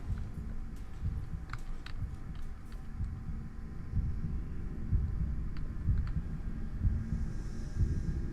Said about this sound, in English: Is that his heartbeat I'm hearing?